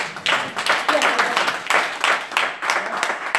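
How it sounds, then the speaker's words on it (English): A church congregation claps hands in quick rhythmic bursts during an all-night prophetic worship service, the sharp claps loud and steady throughout, with voices mingling underneath. "Clap your hands unto the Lord."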